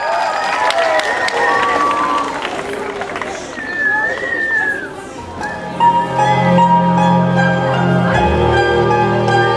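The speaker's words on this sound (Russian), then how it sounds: "Ваши аплодисменты!" An audience at a children's dance ensemble concert claps and cheers in a brief burst of applause, with an announcer's voice over it before music begins.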